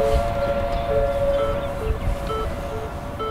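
Tornado warning siren during the El Reno tornado on 31 May 2013, a sustained wailing tone heard from a distance over low rumbling wind and road noise, with no talk.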